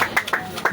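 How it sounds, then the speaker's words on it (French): Audience clapping at a ninth-anniversary memorial at a mausoleum, heard as short uneven bursts of hand claps with brief gaps between them, close and moderately loud. "Veuillez applaudir s'il vous plaît."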